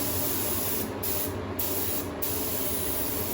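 Spray gun hissing steadily as a full coat of candy paint goes onto vintage motorcycle shock absorbers, a continuous close, even spray with a few brief pauses.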